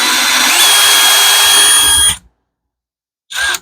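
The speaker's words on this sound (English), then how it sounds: "And drill 2 holes in it again." A power drill boring holes in a pumpkin whines loudly and steadily for about two seconds, stops into silence, then starts up again briefly at the end.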